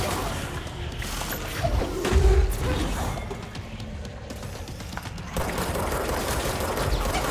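Gunfire and crashing impacts from a video game boss fight sound in a dense, moderately quiet bed of bursts, with one heavier thud partway through.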